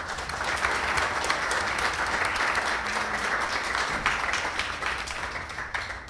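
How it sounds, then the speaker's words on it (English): A room full of people gives a warm round of applause for a discussion panel at a professional event, steady and sustained clapping at moderate distance that tapers slightly toward the end. "I'd like to give them a warm applause."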